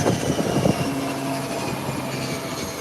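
A private Cessna light aircraft taking off, its propeller engine droning steadily at a moderate distance with a broad, even roar.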